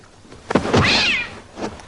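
A cat gives one loud, close, drawn-out meow, preceded by a soft thump.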